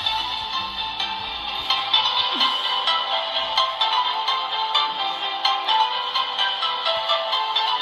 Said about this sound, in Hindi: एक म्यूज़िक प्ले करके देखते हैं और फिर स्पीकर की साउंड को भी चेक करते हैं कि कैसी है।